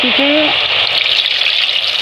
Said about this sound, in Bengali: দেখুন আমরা তেলে পিঠে ভাজছি